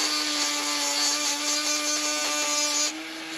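A cordless five-speed rotary multi-tool grinds on low speed, a steady high-pitched motor whine with bright grinding hiss that holds constant, then drops off near the end; no talking.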